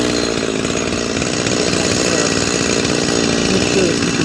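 Holzfforma G255 chainsaw engine running during tuning, a loud, close, continuous buzzing drone with a rough, steady rasp and no pauses throughout.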